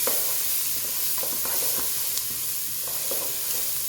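Garlic added to translucent onions sizzles in a pan, a continuous close hiss with light stirring scrapes and no talking.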